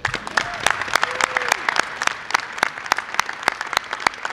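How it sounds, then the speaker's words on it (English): An audience applauds Linden residents at a community initiative unveiling, steady clapping from many hands with sharp individual claps standing out near the front, a couple of brief whistle-like tones mixed in. "I'd like for you to all stand and give a warm round of applause to the Linden residents who supported in making this initiative happen"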